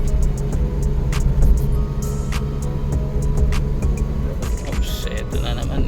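A Suzuki DA64W Samurai 4x2 automatic with a turbo engine holds a steady drone around 3,000 RPM while cruising on a road, a constant engine hum under road noise with occasional clicks and faint voices.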